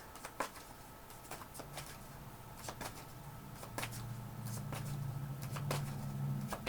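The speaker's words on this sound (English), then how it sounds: "Let me go ahead and shuffle." A tarot card deck is shuffled by hand nearby, giving soft, irregular riffling and slapping sounds over a faint steady background hum, with no talking.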